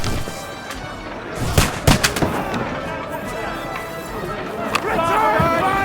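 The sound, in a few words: gunfire in a battle, Kingdom Come Deliverance 2 video game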